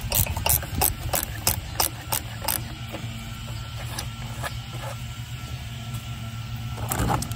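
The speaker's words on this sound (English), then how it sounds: "I'm just going to loosen up these lock nuts here" Rapid ratcheting clicks from a hand tool loosening rusty lock nuts on a boat trailer light housing, in a quick close burst at the start, then sparse clicks over a quiet background, with a final short burst.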